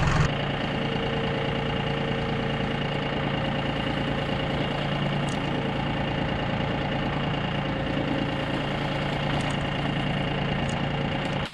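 A tractor engine idles steadily up close during grapple work clearing piles, a constant low rumble with a faint knocking tone, loud and unbroken, with no voices.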